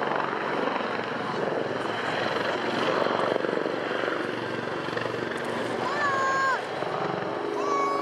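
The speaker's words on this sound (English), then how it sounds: "Another British helicopter now in the form of the RAF Chinook from the Joint Helicopter Command" RAF Chinook helicopter of the Joint Helicopter Command flying at an air show, a loud continuous rotor and engine roar holding steady throughout, with faint whistling tones near the end.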